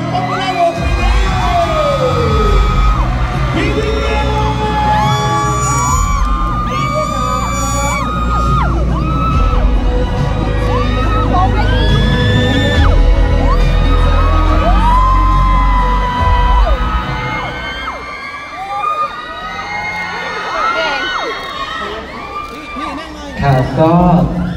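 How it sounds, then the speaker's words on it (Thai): Loud, sustained crowd noise at a pop music awards ceremony in a large venue, with whoops, yells and cheering swelling over a dense bed of sound and music for over twenty seconds before easing slightly near the end. "ขอเสียงปรบมือและปรบมือดังๆให้กับ"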